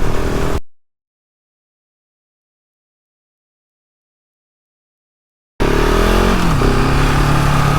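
KTM 690 Enduro R single-cylinder motorcycle from 2020, stock with no luggage, being ridden: a loud engine drone near the start cuts out for several seconds, then returns strongly with a steady rising pitch.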